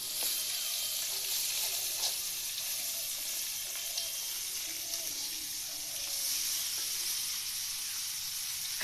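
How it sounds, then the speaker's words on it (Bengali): Fish fries in a pan of hot oil in a home kitchen, giving a steady, even sizzle and hiss that runs throughout at moderate level with only small pops. "এখন মাছ ভাজি করতেছে"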